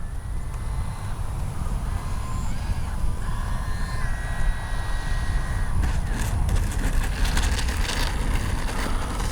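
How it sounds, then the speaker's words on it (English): Kavan Skyfox L-39 RC jet with an 80mm electric ducted fan, a steady whirring whine with wavering tones over constant wind rush, heard continuously from a distance as the model flies. "To me, that motor sounds like an out-of-tune radio."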